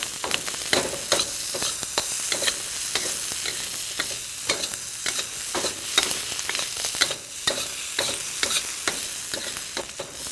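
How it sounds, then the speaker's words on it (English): Green peppers sizzle steadily in a hot pan, softening in oil with spices, while a utensil stirs and scrapes in frequent close clicks over a continuous frying hiss, with no voices. "I like to partially cook my green peppers first in order to soften them a little"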